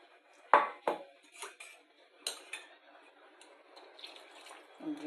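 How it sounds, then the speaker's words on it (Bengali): Water is poured into a cooking pan while making a spiny gourd curry, with sharp clinks of utensils and dishes at the start and a soft splash of water near the end. "জলটা আমি ঢেলে দিলাম।"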